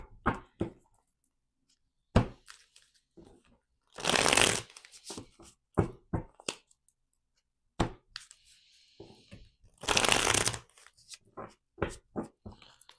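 Cards being shuffled in two long riffling bursts, with scattered taps and clicks of handling in between, close and fairly quiet.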